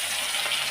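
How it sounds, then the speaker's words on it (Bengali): Fish frying in hot oil in a pan, a brief, steady sizzle heard up close. "একটু কড়া করে ভেজে নেবো, সবাই ভাজাই খাবে যেহেতু"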